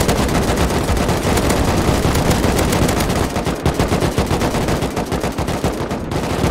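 Sustained automatic gunfire in the survival video game Rust, a loud, dense stream of rapid shots running nearly unbroken for several seconds, with the rhythm loosening into separate bursts near the end.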